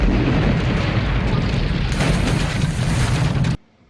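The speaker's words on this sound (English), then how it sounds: "the big house explosion at the end" Big house explosion from a Friday the 13th film, a loud, sustained roaring blast with a heavy low rumble and crackling debris, lasting several seconds before cutting off abruptly.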